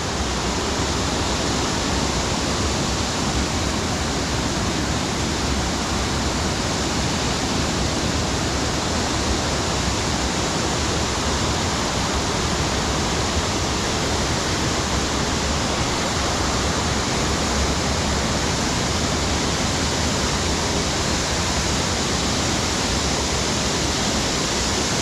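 Harmby waterfall roars as a steady, dense wash of falling water, constant and loud throughout with no voices.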